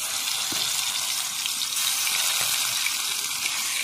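Nigella seeds and garlic tempering in hot oil sizzle with a dense, steady hiss, close and even throughout, with a few faint pops and no talk.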